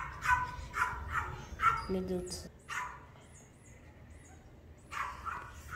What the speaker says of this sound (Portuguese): Ah, não, esse cachorro de novo.